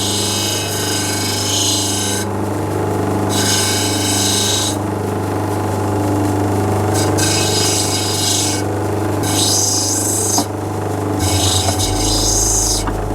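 Stone is pressed against a lapidary grinding wheel, 80 to 220 grit, making a continuous gritty grinding whine over a steady motor hum, with repeated bursts of harsher scraping as the stone is pushed on and eased off.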